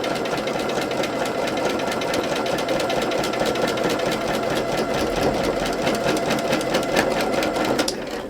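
Sewing machine running steadily for free machine stitching on fabric, a fast continuous mechanical whirr and needle chatter, close and unbroken, briefly tailing off at the end.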